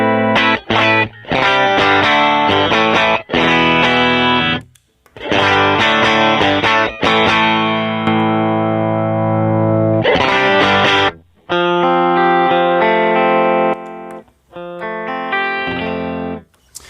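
Clean electric guitar through a compressor pedal playing a series of strummed chords and short riffs, evenly sustained and fairly loud, with brief pauses between phrases.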